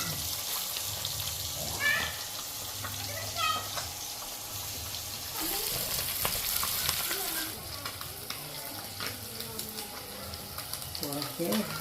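Palathi fish sizzles in a hot pan, a steady frying hiss with occasional stirring scrapes, heard close alongside women's conversation.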